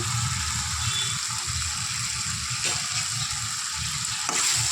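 Chili powder being stirred into a Guntur-style dried prawn and tomato curry in a pan: a steady, close sizzle with soft scraping and two brief louder stirring strokes.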